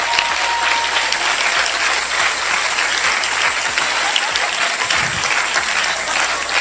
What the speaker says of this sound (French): Vous méritez les acclamations.